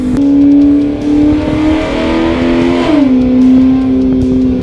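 A Fiat Multipla engine drones loudly and close, its pitch holding steady and then dipping briefly before settling into a lower, steady hum.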